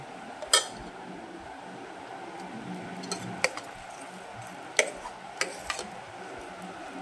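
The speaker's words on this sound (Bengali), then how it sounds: "এবার এটা একটা হাতা দিয়ে খুব ভালো করে নাড়িয়ে দাও" Ladle stirring rice and lentil idli batter in a pot, giving scattered clinks and taps against the vessel with soft wet mixing between, close and moderately quiet.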